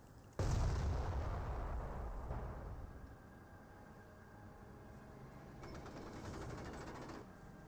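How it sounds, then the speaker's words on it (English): Artillery barrage in Company of Heroes, a decoy bombardment: a loud, sudden heavy boom at the start with rumbling blasts that fade and return, then a second swell of distant rolling fire near the end, no talk. "And now here comes some more artillery."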